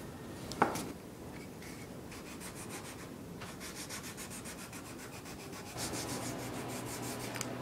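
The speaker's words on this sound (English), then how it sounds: "and then I'll finish it up with a sandpaper" Sandpaper rubs steadily over tenor guitar wood, a close, continuous scratchy swish in repeated strokes, with one sharp tap near the start and a louder, brighter stretch of sanding toward the end.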